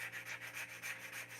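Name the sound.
sanding wood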